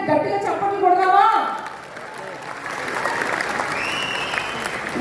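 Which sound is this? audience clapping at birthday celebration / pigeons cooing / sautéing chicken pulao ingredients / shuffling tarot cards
audience clapping at birthday celebration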